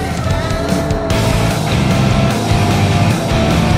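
An Alfa Romeo Giulia Quadrifoglio on the Balocco circuit howls loudly and close, its rear tyres squealing on asphalt as the engine roars continuously.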